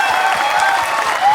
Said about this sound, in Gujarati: Big round of applause once again for the Dave પરિવાર.